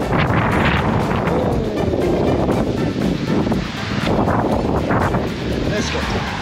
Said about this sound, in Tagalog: Lakas ng hangin, Pio.